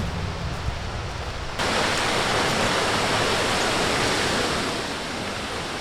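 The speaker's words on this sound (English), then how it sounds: "And here's the waterfall." Steady broadband rush of a low-flowing waterfall at Cloudland Canyon, Georgia, a continuous roar that swells louder partway through and then holds constant with no talking.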